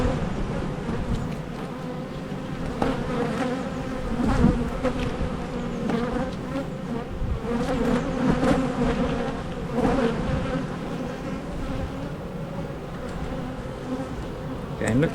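Honeybees buzz steadily and densely throughout a beehive inspection, a loud continuous swarm hum close by with no talking.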